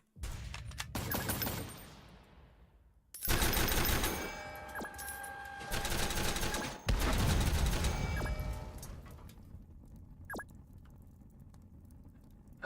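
Gunfire in a combat video game rattles out in several dense bursts of rapid shots, loud and close, separated by short quieter gaps.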